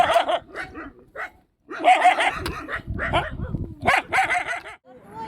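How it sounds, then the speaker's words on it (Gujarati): Several dogs bark and yip in loud bursts, with brief pauses between volleys and some whining mixed in, close by. "એવા ખતરનાક કૂતરા છે"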